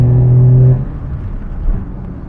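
A Daihatsu Handivan L700 van with a 989cc engine accelerates on an open road, a loud steady engine drone with a strong low tone that drops away after a moment into a lower rumble of road and engine noise.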